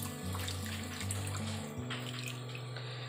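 Unboiled full cream milk pours from a large tumbler into grated carrot sautéed in ghee for carrot halwa, making a steady, continuous splashing gush that stays close and even for about three seconds.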